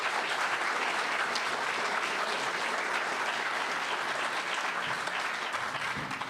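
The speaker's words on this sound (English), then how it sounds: "So give them another round of applause." Steady, full audience applause for sheriff candidates at a bipartisan community forum, a thick continuous roar of clapping that tapers slightly at the end.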